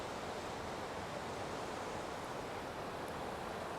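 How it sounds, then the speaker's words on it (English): Russell Creek rushes loudly in the Mount Jefferson Wilderness along the Pacific Crest Trail, a steady, dense roar of whitewater filling the whole span without pause or voices. "This is Russell Creek, and it is loud"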